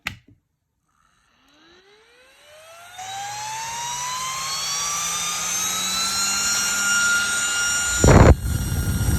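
A small high-speed electric fan of about 19,000 RPM spins up from silence with a rising whine that climbs in pitch, then settles into a loud, steady, jet-like scream.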